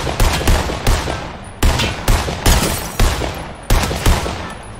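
Gunfire in Fortnite: loud close shots in evenly spaced bursts of three or four, repeating steadily about once a second, with no voices.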